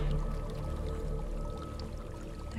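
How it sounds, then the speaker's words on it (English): A waterfall in Hellblade: Senua's Sacrifice, heard as a steady broadband rush of falling water that holds level and continuous throughout, with low rumbling weight and no voices. "There's a waterfall."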